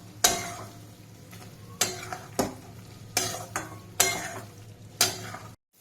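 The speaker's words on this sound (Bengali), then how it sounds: "এবার আমি একসাথে কষাবো এটাকে ভালো করে।" Chicken with a ground spice paste and green chili is stir-fried in a pan, a soft steady sizzle broken by about seven sharp spatula scrapes and knocks at irregular intervals, close and clear, ending abruptly.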